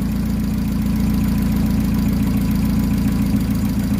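A car engine runs at a steady idle, a loud continuous low rumble with an even pulsing throb close by, with no voices.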